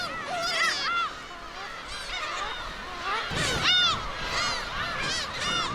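Black-tailed gulls call on Dokdo island in the East Sea during breeding season, a chorus of loud, mewing and honking cries from several birds, some near and some farther off, overlapping continuously.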